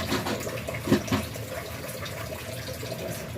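Boiled water poured into a cooking pot while making beef bistik, a steady close liquid pour running throughout with a brief louder splash near the start.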